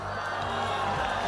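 A festival crowd at the traditional Haman nakhwa fire event by a pond cheers and whoops in a continuous, dense wash of voices, with scattered claps mixed into the steady roar.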